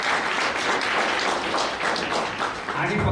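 An audience claps steadily for Dr. Bhovare, a diabetic kidney-transplant recipient who cycles 30 km daily, with broad, sustained applause filling the hall at a kidney disease awareness event at MIT Hospital.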